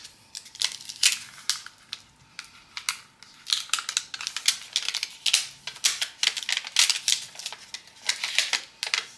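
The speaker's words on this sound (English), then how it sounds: "I'm going to use my scraper to apply the tape on top, and then I will pull the paper back" A scraper is worked over clear transfer tape laid on vinyl, making a quick series of dry scratchy strokes that come in irregular bursts, close up and with no talking.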